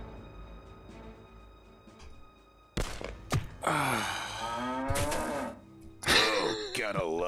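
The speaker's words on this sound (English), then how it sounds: "The timing of that moo was really good." A cow in Jagged Alliance 2 gives several loud, drawn-out moos and groans close up, set against quiet game background hum with a few thuds.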